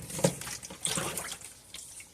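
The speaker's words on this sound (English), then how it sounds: "And I'm going to put half of this into my pot here. I just got to be able to pour this out." Broth poured out of a bag into a cooking pot with noodles, a brief close splashing trickle of liquid that tapers off.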